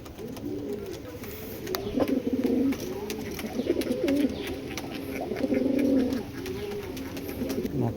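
Giribaz pigeons cooing in repeated low, rolling phrases at close range, several overlapping calls rising and falling in a steady rhythm.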